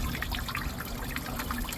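Water trickles steadily through a vertical hydroponic planting system while its pump runs, a soft continuous dribbling and splashing close by with no talk.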